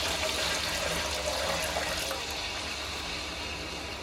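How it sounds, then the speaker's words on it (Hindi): Milk, three teacups' worth, poured into a cooking pot for degi matanjan, a steady splashing liquid stream running continuously at close range with no voices over it. "अब मैं इसके अंदर 3 कप दूध, 3 कप दूध चाय पीने वाले कप होते हैं वो इसके अंदर डाल दें"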